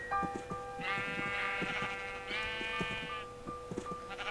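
Sheep bleating in the video game Minecraft, several drawn-out bleats from a flock crowded together, close and clear over soft background game sounds, with no talk.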